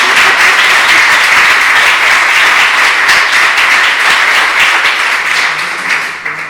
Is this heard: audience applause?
yes